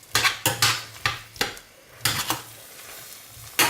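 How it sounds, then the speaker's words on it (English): A spoon scrapes and knocks against a pot while thick, hard coconut curd soap is stirred, giving a close, irregular run of loud clattering strokes with short pauses between them. "So there's a lot of stirring involved."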